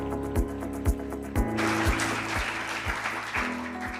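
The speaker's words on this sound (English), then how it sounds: "Big round of applause, please." Audience applause welcoming a keynote speaker at a talk on scams and mobile security, moderate and steady clapping from a crowd, with rhythmic thumping and music-like tones underneath.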